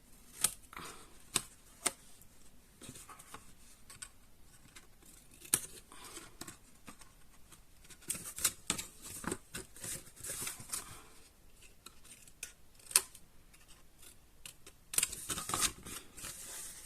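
Scissors snip through paper squares in a quiet room, a run of sharp, separate cuts with short pauses between them, first straight and then at an angle, close and crisp with no talking.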